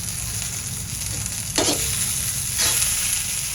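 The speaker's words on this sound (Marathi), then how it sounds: "तर आपण लसणाची पात घालूया, पालटून घेऊया." Chopped garlic greens and tamarind are stirred and fried in a hot pan, giving a steady close sizzle with two sharper bursts of scraping and crackle as the greens are turned.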